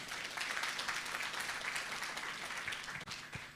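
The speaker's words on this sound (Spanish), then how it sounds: "Vamos a dar fuertes aplausos a hermana Emma" A church congregation at a Sunday service applauds Sister Emma, with a sustained, even wash of many hands clapping at a moderate distance that dips briefly near the end, with no clear speech over it.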